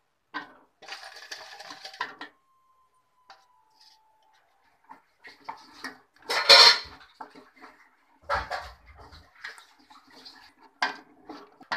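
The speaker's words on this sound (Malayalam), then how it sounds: "അപ്പൊ നന്നായിട്ട് ഒന്ന് കലക്കി കൊടുക്കണം" A spoon scrapes and clinks against a pan while jaggery mixture is stirred for Kasaragod-style fenugreek manni, with irregular close metallic knocks and brief louder clatters in a quiet kitchen.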